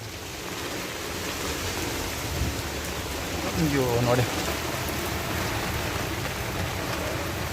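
Steady rain hisses throughout as a dense, even wash of noise, and a voice speaks briefly over it.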